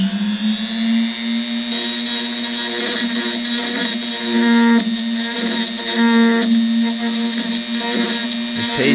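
Cheap Walmart Dremel-style rotary tool whining steadily up close as it grinds away super glue on a figure joint, its pitch dipping slightly each time it bites into the work.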